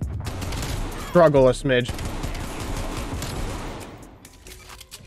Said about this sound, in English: Like right there, I missed a lot of shots.